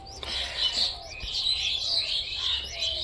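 Giribaz pigeons in a loft, a pair nesting with fresh eggs, give steady chirps and soft calls that run without a break throughout, close by and at moderate volume, with no talk.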